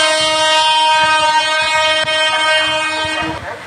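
Horn 2 of an electric train in a mobile train video game sounds as a loud, steady, chord-like blast held for over three seconds, then cutting off abruptly at the end.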